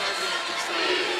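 A basketball arena crowd at a Marshall vs Charlotte NCAA men's game roars and shouts in a dense, steady wash of voices, loud and continuous throughout.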